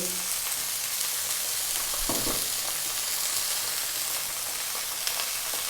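A pan of sweet and sour tofu vegetables sizzles steadily up close, with a brief burst of louder spatter and scraping midway as a little water goes in.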